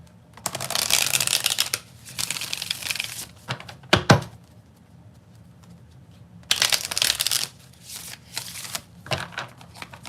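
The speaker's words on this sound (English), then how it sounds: "Uh-oh, cards flying everywhere." Tarot cards are shuffled in long, loud riffling bursts, close up, with a sharp clatter in the middle as cards spill and scatter, then more shuffling after a quiet gap.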